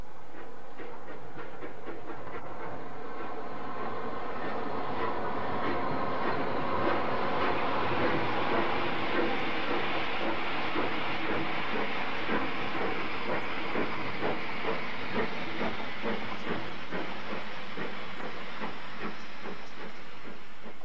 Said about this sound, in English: steam trains would still be chuffing through the Garden of England